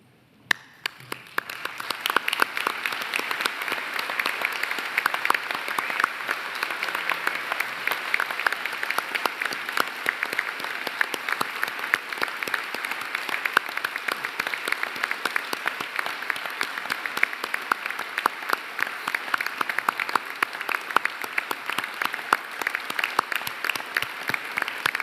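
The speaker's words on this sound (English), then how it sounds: "we all stand and join in applauding their wonderful achievement" The audience at a university graduation ceremony in Newcastle, Australia gives the graduates a long, steady round of applause, dense crisp clapping from a large crowd in a hall, sustained for the whole stretch.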